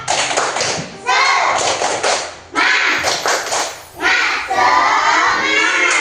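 A classroom of students claps a rhythmic chant in unison, loud and close, with bursts of patterned clapping separated by brief pauses and children's voices mixed in.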